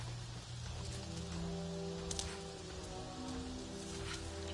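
Rain falls steadily in a foggy, rocky forest in Avatar Frontiers of Pandora, a soft constant patter with a faint wash of ambience and no talk.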